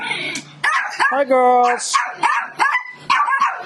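Boarding dogs at an animal rescue bark and yip in several loud, close bursts, with a whimper between them, while a person speaks over the barking.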